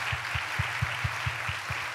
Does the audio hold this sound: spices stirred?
no